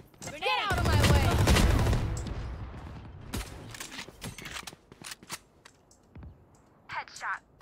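Rapid bursts of gunfire from the video game Valorant, loud and dense early on and then thinning into scattered shots and clicks, with players talking over the action.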